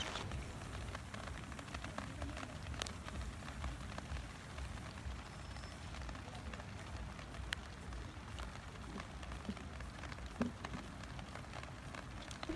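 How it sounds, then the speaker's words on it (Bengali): Steady rain patters on a lotus and water lily pond, heard from a boat as a soft, even hiss with scattered faint drop ticks, quiet and continuous throughout. "আসছি আর শুধু বৃষ্টির শব্দ হচ্ছিল"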